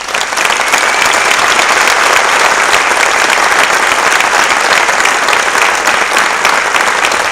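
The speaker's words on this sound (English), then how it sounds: "Let us give them one big round of applause." Loud, dense congregation applause fills a church at a graduation-style Mass, sustained and even from start to finish, a wash of many hands clapping without pause or voices on top.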